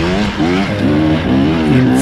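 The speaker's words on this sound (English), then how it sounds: "In first, and I can't maintain traction with the body position. I keep revving" A 2025 KTM 300 XC two-stroke dirt bike revs hard in first gear on a hill while losing traction. The engine note is loud and close, surging and dipping repeatedly without a break.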